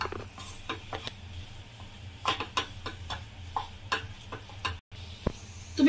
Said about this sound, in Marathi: मीठ घालून पुन्हा एकदा आपण छान परतून घेऊया ह्याला।